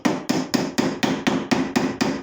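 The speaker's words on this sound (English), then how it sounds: "To remove the ring, just tap it from the other side, turn it round, and repeat." A hammer taps a thick ring shank off a steel jewellery mandrel, nine sharp metallic knocks in an even rhythm about a quarter second apart, close and loud with no talk.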